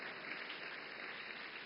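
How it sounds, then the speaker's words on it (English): An audience applauds during a session with the YouTube CEO, a brief dense wash of clapping, even and fairly faint, heard alone without speech. "Yeah, you can clap."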